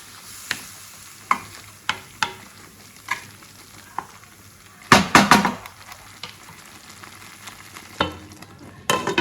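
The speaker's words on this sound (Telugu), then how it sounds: "మసాలా నుంచి ఆయిల్ సపరేట్ అయ్యేంత వరకు లో ఫ్లేమ్లో ఐదు నుంచి పది నిమిషాలు మంచి లో ఫ్లేమ్లో మగ్గించుకోవాలి" Masala cooking on a low flame for a dhaba-style paneer curry, a quiet sizzle under sharp spoon taps and a burst of scraping and clatter partway through, near and alone.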